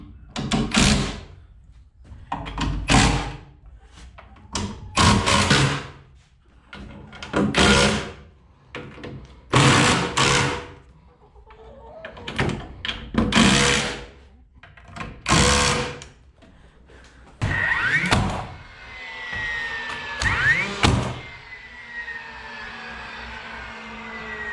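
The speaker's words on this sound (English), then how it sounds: "I'm just going to go ahead now and hit these timber lock screws." A power driver sinks timber lock screws into wooden stairs for a tiny house or shed, with about a dozen loud, close whirring bursts separated by short pauses.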